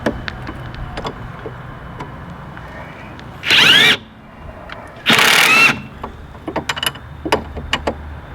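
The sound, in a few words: Ingersoll Rand impact wrench tightening car control arm bolt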